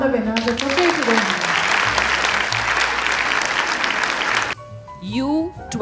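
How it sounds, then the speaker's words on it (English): Audience at a school annual concert applauding the winners: loud, dense clapping that runs for over four seconds and then cuts off abruptly, followed by a short burst of voices. "I think we can applaud the winners."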